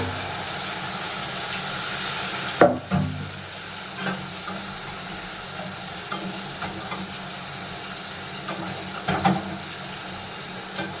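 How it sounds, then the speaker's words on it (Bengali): Prawns sizzle in a hot pan with a continuous hiss, broken by a loud clatter early on and then scattered light scrapes and taps. "চিংড়ি মাছটা ভাজা হলো ওই ইয়েতে।"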